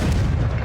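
A fire-blast spell explodes in Hogwarts Legacy, a single heavy, booming burst that fills the whole short moment loudly with no voice over it.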